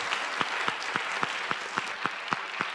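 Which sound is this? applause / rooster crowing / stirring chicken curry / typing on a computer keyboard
applause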